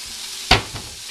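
A Cuban sandwich being pressed flat with a plate in a hot pan gives a sharp burst of sizzle and a clunk, then a softer second crackle over steady frying hiss.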